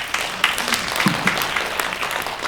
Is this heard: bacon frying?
no